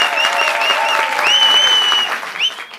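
Live comedy show audience clapping to vote for a choice, a burst of dense applause with shouts and whoops on top, fading toward the end.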